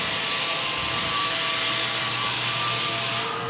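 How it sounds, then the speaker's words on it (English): A floor sander works across a damaged wood floor, producing a loud, steady whining roar with a sustained hum beneath, unbroken for the whole stretch and close by. "Already got the man Jorge on the sander right here"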